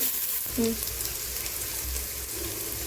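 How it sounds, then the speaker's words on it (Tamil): Mint leaves sautéing with ginger garlic paste in a pan for coconut milk pulao, a soft continuous sizzle with faint stirring, one brief tonal clink near the start. "புதினா நல்லா வதங்குற வரைக்கும் வதக்கிக்கலாம்"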